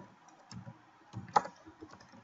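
Quiet, sparse keystrokes on a computer keyboard, a handful of soft clicks spaced irregularly at close range in a calm room.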